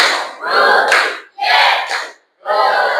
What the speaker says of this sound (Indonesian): Tepuk 1, 2, 3.